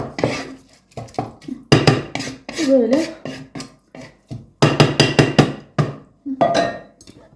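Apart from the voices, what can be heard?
chopping cabbage with a knife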